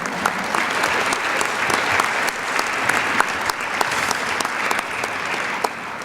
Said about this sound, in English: A round of applause for Kevin Knabb, basketball.